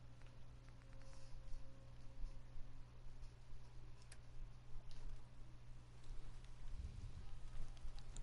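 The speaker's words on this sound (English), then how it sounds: "is it safe for you to come out during the rain" Rain in the video game Fallout 4, a faint, steady patter of drops with light ticking over a low constant hum, no voices.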